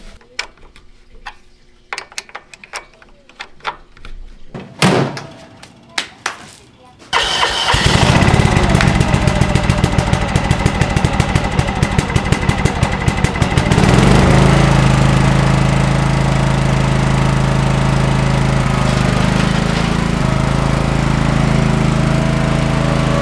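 A John Deere lawn mower engine after carburetor cleaning, first a few sputtering pulls and cranks, then catching and running loud and close with a steady rough drone that shifts pitch partway as it surges, no talk.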